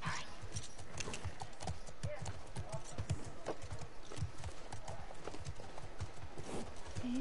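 Steady clip-clop of horse hooves trotting in an even rhythm in The Last of Us Part II, with a brief whinny near the end, heard over soft background noise.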